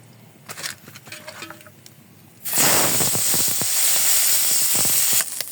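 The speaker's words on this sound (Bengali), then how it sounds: "এখন আমি মাছগুলো ভেজে নেব" Quiet handling sounds, then a loud burst of sizzling as tengra catfish hit hot oil, crackling steadily to the end.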